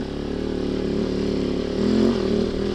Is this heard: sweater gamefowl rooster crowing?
no